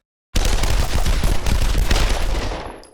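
A Titan's heavy automatic weapon in Titanfall 2 firing one continuous loud, dense burst for about two and a half seconds after a silent start, then cutting off.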